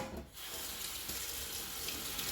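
Tap water runs steadily into a kitchen sink while a spoon is rinsed during home pizza making, a close, even splashing rush.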